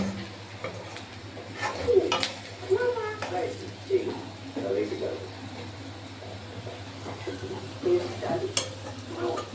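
Egg bhurji being stirred in a pan at home, a boy cooking it Konkani style, with soft scraping and a faint sizzle under steady talk between family members.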